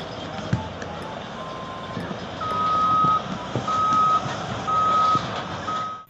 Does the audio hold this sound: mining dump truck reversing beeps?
yes